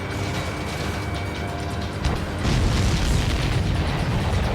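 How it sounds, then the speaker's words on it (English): Missile launch in the Ace Combat 7 video game, a dense roaring rush that swells partway through into a louder, heavier rumble, continuous and close. "missile launched"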